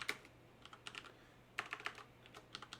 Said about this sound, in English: so I'll type in a 3 and say OK